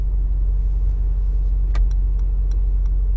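A 2022 Mercedes G63 AMG G-Class in Arabian Grey idles with a deep, steady low rumble while parking in a city street, with a few faint light clicks from inside the cabin.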